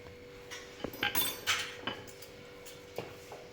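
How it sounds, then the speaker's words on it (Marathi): Fork pricking rolled dough for masala shankarpali, a handful of light, sharp metallic taps and clinks at an irregular pace against a board, close and fairly quiet with no talk. "आपण हे काटे चमच्याने थोडंसं टोचून घेणार आहे पोळीला ह्या"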